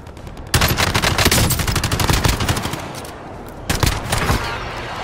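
Gunfire in Warzone: quick bursts of pistol shots crack loud and close, one run of rapid reports, a pause, then another short burst.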